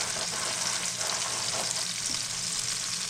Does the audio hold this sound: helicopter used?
no